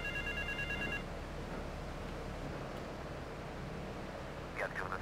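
Telephone ringing in GTA III Definitive Edition, an electronic ring heard briefly at the start over a constant noisy background, followed by a faint chirp near the end.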